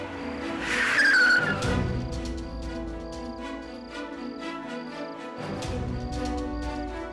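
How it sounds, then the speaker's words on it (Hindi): A car brakes hard with a brief tire squeal near the start, then its engine rumble settles low as it stops, with a steady high whine and faint chirping in the background. "ड्राइवर, गाड़ी रोको।"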